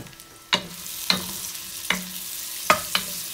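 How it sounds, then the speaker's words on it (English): Green peas go into a sizzling pan with onion while they cook for tofu gratin, and a steady fry hiss runs under five sharp scraping stirs spaced about half a second apart. No one speaks. "we should add our green peas in there"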